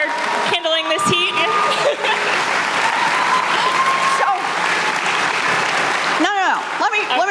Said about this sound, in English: why don't we give the senator another round of applause